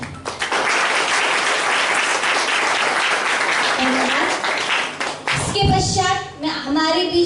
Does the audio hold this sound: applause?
yes